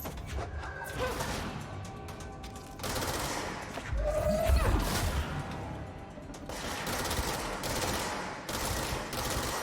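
A machine gun in the video game Control fires short, choppy bursts that recur steadily across the whole stretch, loud and close, with a heavier impact thump near the middle.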